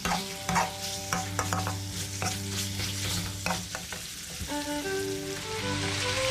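Pork belly and curry paste sizzle in a hot wok at a field kitchen, stirred with steady scraping strokes over a continuous loud fry.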